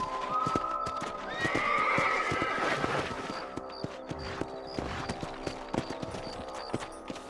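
Horses in a Wild West video game whinny loudly near the start, then hooves clip-clop in a steady rhythm through the rest, with close, distinct strikes.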